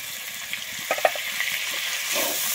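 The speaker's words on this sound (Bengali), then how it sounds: "আমি টমেটোটা দিয়ে খুব ভালোভাবে কিন্তু এখানে ভেজে নেব।" Chopped tomato frying with ginger in a pan for a Bengali-style matar ghugni, a steady soft sizzle with a few brief stirring clinks and a slightly louder hiss near the end, heard alone.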